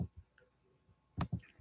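Several light plastic clicks of calculator keys pressed while entering a negative fraction, quiet and irregular with short gaps between presses.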